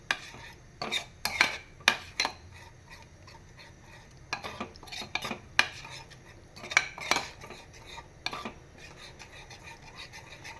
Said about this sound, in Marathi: म्हणून आता थोडीशी डाळ आपण ढवळून घेतो आहे मस्तपैकी.